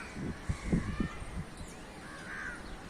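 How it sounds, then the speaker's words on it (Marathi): Crows caw outdoors, a few harsh calls clustered near the start over steady open-air background noise, moderately distant. "मधूनच हा कावळा जातोय बघा"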